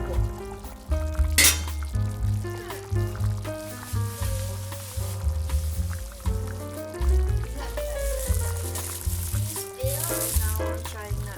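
Pork dinuguan is stirred as it simmers in a pot, with repeated rattling and clinking of a utensil against metal over bubbling liquid, steady and close, with occasional speech.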